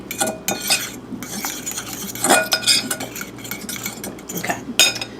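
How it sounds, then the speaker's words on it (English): Two eggs whisked with about half a cup of grated cheese in a bowl, quick uneven metal clinks and taps against the bowl in bursts, close and alone. "We're going to whisk together 2 eggs and about a half a cup of grated cheese"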